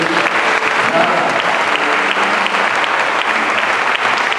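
A church congregation applauds during an evangelical sermon on the Resurrection, a loud, dense, continuous clatter of many hands sustained throughout.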